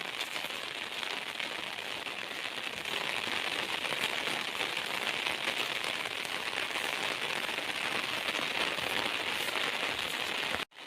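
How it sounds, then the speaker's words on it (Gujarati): Heavy rain pours down on the village of Lunpur in Banaskantha, a dense, unbroken hiss of drops that stays even and close throughout before cutting off abruptly. "જો મિત્રો ફૂલ વરસાદ ચાલુ છે"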